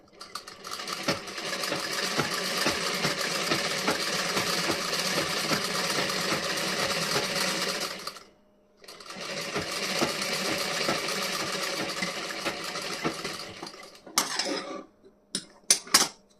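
A sewing machine stitches the front piece of a blouse, running in two long continuous bursts separated by a brief pause, then a few short clicks and handling noises at the end.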